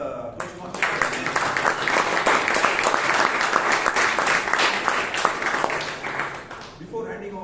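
A Toastmasters club meeting audience in Bangalore bursts into applause, dense steady clapping sustained for several seconds before tapering off, with a voice faintly present beneath and as it fades.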